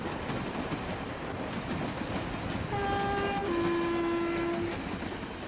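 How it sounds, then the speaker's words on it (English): A train rumbles steadily past in the distance, and partway through its horn sounds a two-tone blast lasting about two seconds. No one speaks. "See the train going by."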